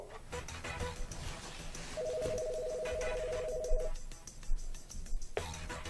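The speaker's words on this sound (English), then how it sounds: "Dial 4 now to call my cell phone." A small office phone system plays a steady DTMF keypad tone for about two seconds amid faint clicks and background noise.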